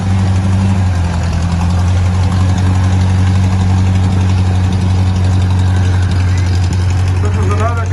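A Ford 801 tractor engine idles steadily and close by, a low, constant rumble with no change in pace throughout.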